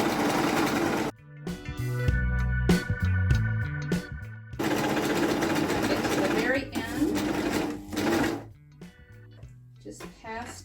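A sewing machine stitches old jeans being upcycled into bell bottoms, running in several separate bursts of rapid mechanical whirring with pauses between them, with talk in between.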